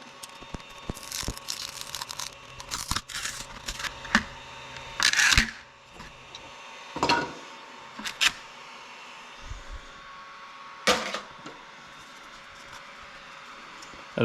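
A 3D printed turbo manifold for a Miata being pried off a printer bed, heard as scattered sharp cracks, snaps and scraping crinkles spread across the stretch, some close and loud, others faint.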